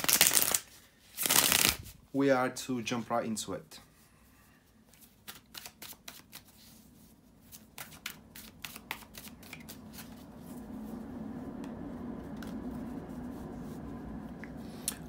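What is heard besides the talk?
shuffling tarot cards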